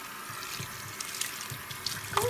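Running water pours and splashes in a baby's bath during a rinse, a steady close trickle with small sloshes and drips, no talking.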